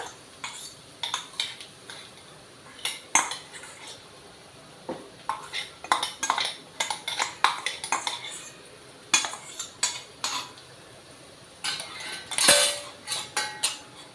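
Masala paste being added to a vegetable biryani pot and stirred, with irregular metal spoon clinks and scrapes against the pot, close and fairly crisp.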